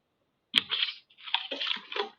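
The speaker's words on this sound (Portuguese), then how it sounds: "eu vou tomar um golinho de água" A teacher taking a sip of water in a quiet room, a short close slurping draw and swallow in two wet bursts, with nothing else around it.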